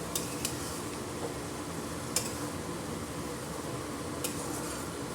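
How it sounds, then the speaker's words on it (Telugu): Ridge gourd sizzles softly in hot oil in an Indian curry pan, a faint steady frying hiss broken by a few light clicks of stirring. "ఇప్పుడు ఈ ఆయిల్లో బీరకాయ అంతా వేసేసుకుందాము."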